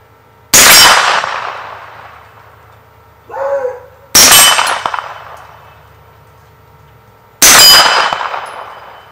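Three gunshots from Federal Syntec Blazer ammunition striking a steel target, each a sharp, loud crack with a ringing metallic clang that decays over about a second, spaced a few seconds apart, with a brief soft clunk between the first two.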